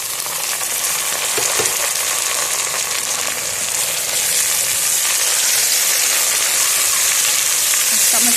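Tomatoes sizzle in a karahi while the masala for seekh kebab karahi cooks, a dense, even frying hiss that stays close and grows slightly louder, with a few soft stirring knocks and no speech.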